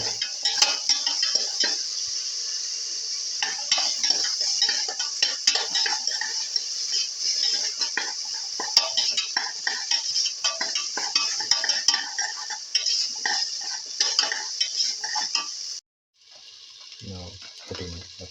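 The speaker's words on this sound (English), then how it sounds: "Put in the fenugreek leaves." Fenugreek leaves are stirred in a frying pan, with a steady hissing sizzle and a spoon scraping and clinking against the metal throughout. Near the end the sizzle drops away, leaving a few closer clatters.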